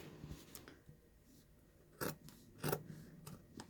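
Scissors snip fabric at close range: a few faint light snips, then two sharper, louder cuts near the end, in a quiet room without talking.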